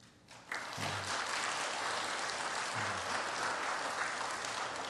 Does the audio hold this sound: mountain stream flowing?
no